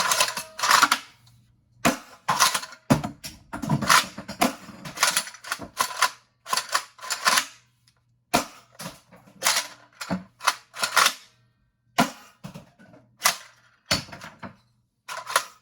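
Foam darts, including Mega and Mega XL types, being loaded by hand into the bottom of a Breacher blaster prototype: sharp plastic clicks and clacks come in irregular bursts separated by short silences, close up and with no talk.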